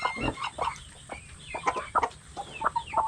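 Several chickens cluck nearby in quick, irregular bursts, a busy run of short clucks and squawks with no talking.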